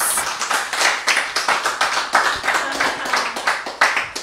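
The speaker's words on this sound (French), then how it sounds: "on peut applaudir cette performance." An audience claps for a performance, a fairly close, steady patter of hand claps with a regular rhythm and no talking over it.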